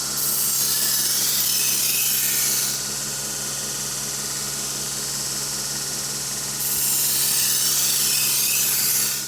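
A knife bevel being ground on a 2x72 belt grinder with a 40-grit belt produces a loud, steady abrasive hiss and whir that dips somewhat in the middle before rising back to full strength.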